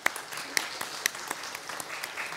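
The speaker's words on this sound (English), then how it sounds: "Can we please give her and Ollie a round of applause?" Congregation in a church during Sunday worship applauding, a light, scattered clapping with a few distinct sharp claps, moderately quiet and without voices.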